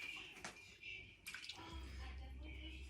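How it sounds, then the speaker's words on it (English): A short, quiet trickle of water poured into a pan of cooking chicken with pomegranate, with small splashes, then a low steady hum underneath. "just going to add a little bit of water"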